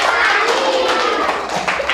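An audience claps together in a dense, loud burst of applause that carries on steadily, with a few stray taps and thumps mixed in.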